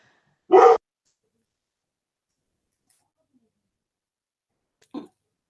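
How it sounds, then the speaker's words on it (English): A dog gives one sharp, close bark, then after a long silence a second, fainter and shorter bark. "my dog's barking"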